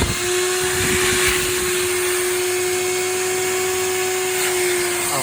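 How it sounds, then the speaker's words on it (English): A Hoover vacuum cleaner runs steadily close by, its motor a constant loud whine as it scrapes and sucks old headlining material off the roof of an MG ZR, with no voices over it. "I actually saw someone doing this with a Hoover, so I'm going to give it a go"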